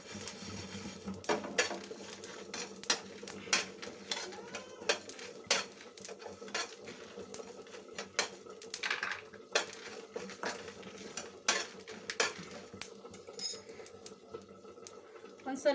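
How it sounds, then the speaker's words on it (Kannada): Sambar ingredients with curry leaves frying in a pan over medium heat, heard mostly as repeated clinks and scrapes of a metal spoon against the pan with only faint sizzle, a voice speaking at times. "ಹೀಗೆ ಫ್ರೈ ಆಗಲಿ."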